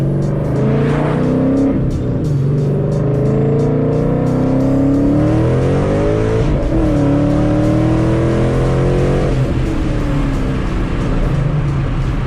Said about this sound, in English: we'll give it a little bit in second gear to third.